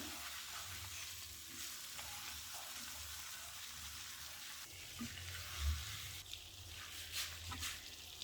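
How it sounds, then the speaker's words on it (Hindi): Black pepper chicken frying in oil as it dries out, a faint continuous sizzle with soft scraping stirs and occasional spoon knocks, no talking. "यू कैन सी कि ये जैसे जैसे फ्राई होता जा रहा है, ड्राई होता जा रहा है। ये ऑयल छोड़ना स्टार्ट हो गया है।"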